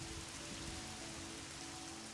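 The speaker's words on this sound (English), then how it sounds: "I see it's still raining." Steady rainfall in the fantasy role-playing game Oblivion, a constant dense hiss of rain with a low background hum, no voices.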